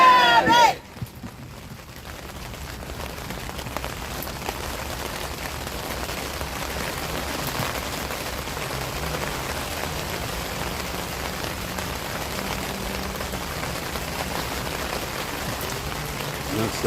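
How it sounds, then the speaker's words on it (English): Steady rain falls at an outdoor night vigil, a constant hiss and patter on surfaces all around. After a brief louder opening the sound holds even and close, with faint voices in the background. "Starting to rain a little harder now."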